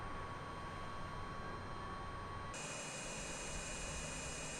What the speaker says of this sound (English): It is normal for both props to start spinning. That looks like it's lighting off